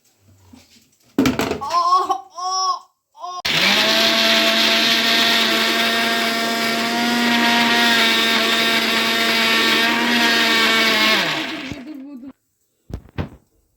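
A few short blender pulses, then a long loud whirring run grinding garlic into paste, stopping abruptly before brief clicks at the end.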